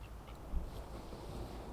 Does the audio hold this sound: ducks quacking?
yes